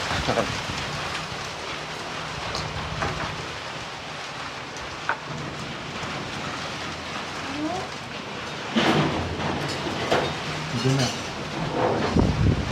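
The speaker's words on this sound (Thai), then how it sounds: "ตอนนี้พายุเข้านะครับ โอ้โหฝนแห้งขนาด" Heavy rain pours steadily through a storm at a rural Thai home, a dense close hiss with occasional louder bursts of downpour, while someone talks over it at times.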